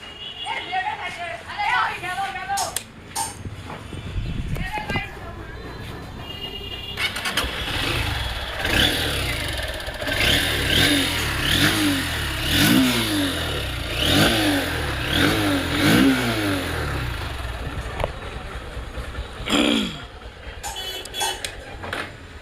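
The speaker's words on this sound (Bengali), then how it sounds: "বাইকটি আপনাদেরকে একবার স্টার্ট দিয়ে দেখাবো আমি" A second-hand Honda Xblade 160cc motorcycle starts up, then its engine idles and revs in repeated rising and falling pulls, loud and close, with someone talking over parts of it.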